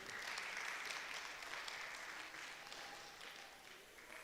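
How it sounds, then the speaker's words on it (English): A hall full of guests at an AYIDSA Day 2023 Yoruba community celebration in a Sheraton hotel claps together. The applause is broad and continuous, strongest at the start and slowly thinning toward the end. "Can we clap our hands together,"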